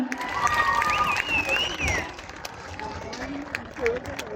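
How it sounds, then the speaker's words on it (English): Children and adults at a school annual day clap and cheer, the applause mixed with shouting voices and a few sung or called-out tones, fairly close and lively. "Come on, a big round of applause for them."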